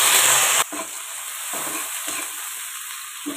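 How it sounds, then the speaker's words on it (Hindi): Onions, mustard seeds and curry leaves fry in oil on medium heat. A loud hiss at the start drops to a softer sizzle, broken by a few stirring scrapes. "तो प्याज के बीच मैं ना नाल ही पा देने कड़ी पत्ता।"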